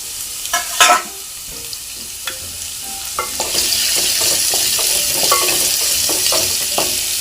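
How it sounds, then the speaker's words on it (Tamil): Onions sauté in a pan with ginger garlic paste for a capsicum soya gravy. A few spoon scrapes come first, then a steady, close sizzle builds with light stirring knocks. "வெங்காயத்தை நல்லா பொன்னிறமாக வதக்கணும்."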